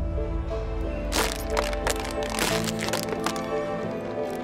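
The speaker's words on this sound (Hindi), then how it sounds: "इस ढक्कन को ऐसे दबा के इसके अंदर डाल दीजिए।" A plastic bottle is squeezed and crushed by hand after its cap is pushed inside, giving a run of loud, close crackling and crunching bursts over a low steady background hum.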